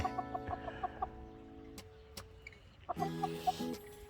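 Azur hens cluck close by in a garden, short bursts of rhythmic, repeated clucks in two clear runs, separated by a quieter gap with a few sharp knocks.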